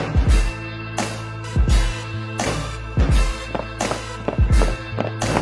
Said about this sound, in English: when I give a footstep, say for Kareena, so I have to sound that 40, 45, 50 kg light and walk like her